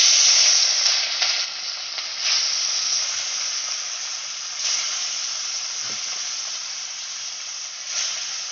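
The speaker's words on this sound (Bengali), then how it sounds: "তেল গরম হয়ে গেছে, এক এক করে মাছগুলো ছেড়ে দিলাম।" Rohu fish pieces rubbed with salt and turmeric sizzle in hot oil in a wok, a loud, steady bright hiss that runs unbroken throughout, with slight surges and no talking.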